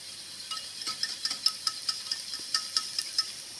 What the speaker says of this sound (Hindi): अच्छी तरह मिक्स करेंगे इस विस्क की मदद से